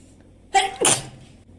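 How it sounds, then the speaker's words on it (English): A single close sneeze, a quick sharp intake followed by a burst, then quiet. "I think I have to sneeze"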